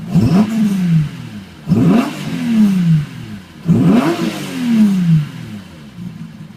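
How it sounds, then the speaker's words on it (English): A 360 hp Star Road Datsun Fairlady S30Z's engine is blipped three times in succession, each rev surging up sharply and then sliding back down, loud and close with no talking. "I've just got to give it another quick rev"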